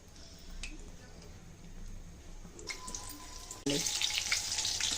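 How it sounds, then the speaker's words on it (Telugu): Evening snacks deep fry in hot oil on a low flame, a steady close bubbling sizzle that turns louder and brighter near the end as pieces are turned. "ఇంకో పక్కకి టర్న్ చేసి డీప్ ఫ్రై చేసుకోవాలి."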